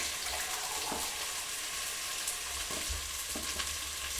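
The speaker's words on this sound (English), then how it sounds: "we're going to pour in 350 ml of water too" Water pours into a pan of chopped tinned tomatoes, making a faint, continuous hissing rush with light bubbling throughout and no talk.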